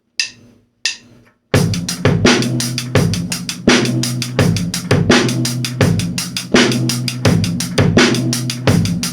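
Drum kit playing a sixteenth-note hi-hat groove at full speed with bass drum, a tight, even stream of crisp hi-hat strokes over punchy low kicks, heard up close after a couple of short opening hits.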